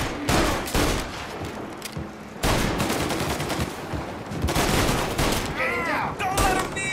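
Heavy automatic gunfire from Mafia: Definitive Edition rattles in long, loud, close bursts with brief gaps between volleys, while voices shout over the shooting.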